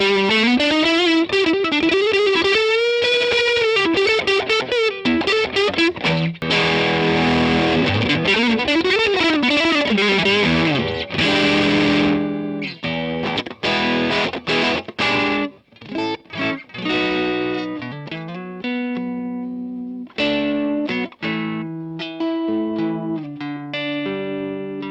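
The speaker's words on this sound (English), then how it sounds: "The bridge pickup sounds about how you would think it would through a lot of gain." High-gain electric guitar on the bridge pickup through a Mesa Boogie Mark V amp's channel 3, played loud and continuous with dense distorted riffs, chugs and sustained lead notes, no talking.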